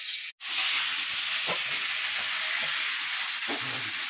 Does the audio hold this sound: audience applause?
no